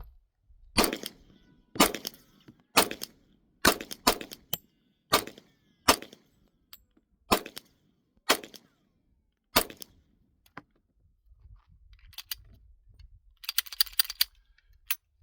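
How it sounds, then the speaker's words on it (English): Ten handgun shots fired on an outdoor range at a 50-yard target, sharp loud reports spaced about a second apart, then a pause and a quick cluster of clanks near the end. "I fired 10 shots."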